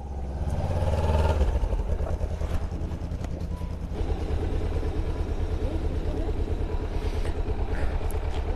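A Kawasaki Ninja 300 motorcycle engine runs at a Kawasaki dealership workshop, with a steady close-up rumble that swells briefly near the start and then holds an even, continuous note.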